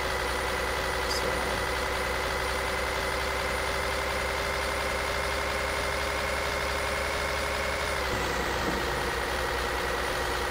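A Kenworth T-660 truck with a 465-horsepower engine idles in Euro Truck Simulator 2, a steady, close, loud diesel drone that holds even throughout, with a slight shift in tone near the end.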